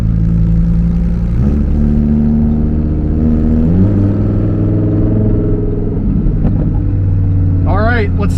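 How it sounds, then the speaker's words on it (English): A 2020 Lamborghini Huracan Evo Spyder driving on an interstate, its engine droning loudly and steadily from inside the car with pitch rising through gear changes, while people talk over it. "let's do a hard pull in the 2020 Lamborghini Huracan Evo Spyder"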